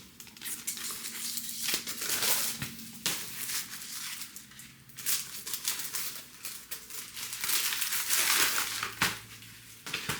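A plastic record sleeve crinkles and crumples as it is handled up close, in irregular bursts of rustling with brief pauses, no voices.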